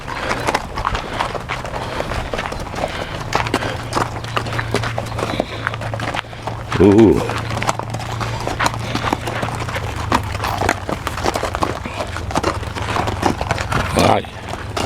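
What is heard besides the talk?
horse hooves clip-clopping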